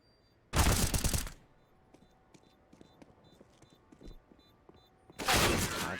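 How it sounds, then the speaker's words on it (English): AK-47 rifle fire in a Counter-Strike match on the Vertigo map, heard as two loud, dense bursts, one near the start and one at the end, separated by quieter footsteps and faint game ambience. "Holt able to trade out with that AK-47"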